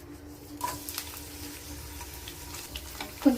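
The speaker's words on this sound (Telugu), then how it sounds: "వెల్లుల్లిపాయలు ఇలా చెదగొట్టుకొని ఆయిల్ మరుగుతున్నప్పుడు అప్పుడు వేసుకున్నాం." Crushed garlic dropped into hot oil gives a soft, steady crackling sizzle with a few light clinks and a faint hum underneath. No one speaks.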